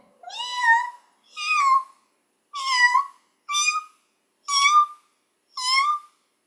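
A human voice imitates the meow of a rusty spotted cat, a tiny wild cat smaller than a house cat: six separate rising, whining meow calls in an even rhythm, close and clear with silence between them.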